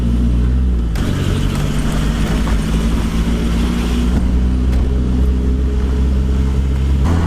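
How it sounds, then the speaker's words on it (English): Cosworth P100 car driving on the road on the way to a petrol station, a steady loud engine drone with low rumble throughout, shifting in tone near the start and end as it moves along. "The car is on the road. We are driving to the petrol station to put fuel in it"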